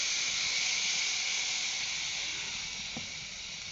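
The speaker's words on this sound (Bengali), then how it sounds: "এবার এতে আমি জল তুলে দেব।" Water poured into hot fried spice paste in a pan for payra fish curry brings a loud, steady steaming hiss that runs throughout and eases off slightly toward the end; no one talks.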